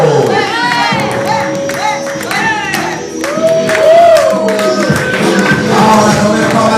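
Crowd at an amateur wrestling rumble cheering and shouting for masked wrestler El Payo's entrance, loud and continuous with whoops and children's cries, an announcer's amplified voice carrying over the noise.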